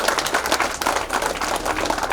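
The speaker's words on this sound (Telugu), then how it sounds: "ఎంత గట్టిగా కొడతారు చప్పట్లు?" A crowd applauds at a Sita-Rama wedding ceremony at the Kodanda Rama temple in Kanumolu, steady dense clapping from many hands at close range that carries on without pause.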